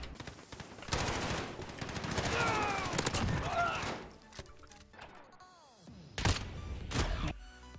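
Video game gunfire plays in rapid bursts and single shots at moderate volume, with clattering impacts and game effects between volleys.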